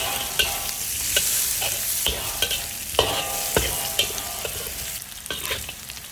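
Leftover lechon kawali stir-fried with garlic, ginger, onion and soy sauce in a pan, a constant loud sizzle broken by irregular clacks and scrapes of the spatula, close up, with no voices.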